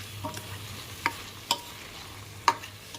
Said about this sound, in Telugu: ఇప్పుడు దీంట్లో మనం ఎగ్స్ వేసుకుందాం ఎగ్స్ వేసుకొని కలుపుకుందాం